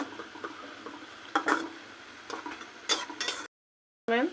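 Mustard-like radish greens (mula shak) fry in a pan, with a soft steady sizzle and intermittent clinks and scrapes of stirring, then a brief silence before the sizzling resumes.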